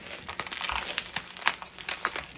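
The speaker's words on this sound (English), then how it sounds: "We got lots of bubble wrap." Bubble wrap packaging crinkles and rustles as fragile items are unpacked, giving soft irregular crackles and crumples close by at low level.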